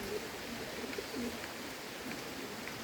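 A Bombay pigeon gives a few soft, low coos, faint against a steady hiss of rain falling outdoors.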